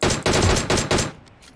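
Gunfire from a battle royale video game: loud, close bursts of rapid automatic shots packed into the first second, then tapering into fainter scattered shots.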